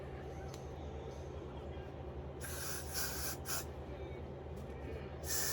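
Several short bursts of hair glue spray hissing, applied close by to the front of a quick-weave hairstyle, over a constant low background hum.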